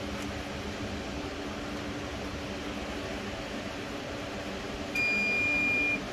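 A kitchen oven finishes preheating to 370 degrees and gives one steady electronic beep near the end, sounding over a quiet hum of fan and room noise.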